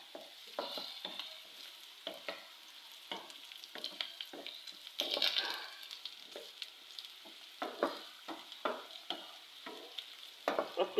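Whole cardamom and cinnamon fry alongside onions turning light brown in a pot for arvi gosht, giving a soft, steady sizzle with repeated nearby scrapes of stirring.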